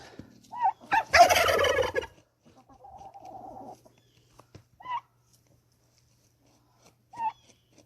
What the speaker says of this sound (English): don't mind the turkeys